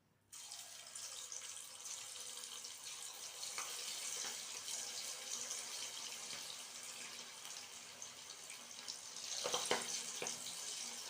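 Vazhaipoo kunukku batter dropped into hot oil in a kadai, a steady faint sizzle and hiss with a few small pops and a brief louder crackle near the end.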